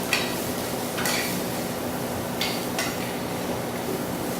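Mushrooms stirred in an oiled pan, with a steady soft sizzle of sautéing and a few sharp scrapes and clatters of the utensil against the pan, close and with no talking.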